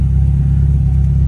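A Mazda Miata engine runs with a loud, steady low rumble, heard close up from inside or beside the car. The idle drone holds even throughout without revving.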